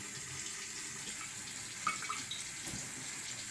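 Tap water flowing steadily from a faucet through a carbon filter, a soft continuous rush and splash into a sink with one faint clink partway through.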